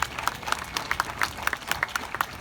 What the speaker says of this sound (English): So let's have a big round of applause for the Olmstead decision.